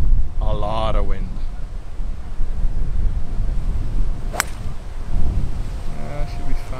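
Strong wind on a golf course buffets the microphone with a constant heavy low rumble throughout, while a voice speaks briefly near the start and a sharp click cuts through midway.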